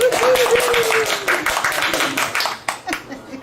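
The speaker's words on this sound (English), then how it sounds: "round of applause" A podcast audience at BrUtopia applauds and cheers for New Bern Fire Rescue, a short burst of close, dense clapping that thins out toward the end, with voices talking over it.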